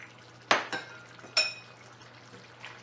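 Chunks of potato drop into a pot of long-cooked, nearly dry meat, making two sharp clattering splashes close together and then another, with metallic pot and utensil knocks and a faint background hum.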